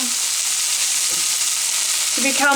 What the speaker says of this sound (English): the spring onions have been frying for a good 2 minutes or so now